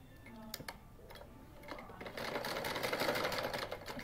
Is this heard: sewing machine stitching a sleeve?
yes